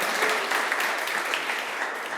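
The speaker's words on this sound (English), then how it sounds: "Can I get a big round of applause for everyone who's a social worker, a nonprofit worker, an executive director in the mix?" Brief, dense applause from an audience at an AI demo day, a steady wash of clapping at even volume with no talk over it.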